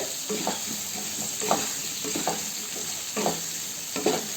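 Ground cumin being stirred in a frying pan with fish head and sweet pumpkin, a close steady sizzle punctuated by several regular scraping strokes of the spoon, no voices.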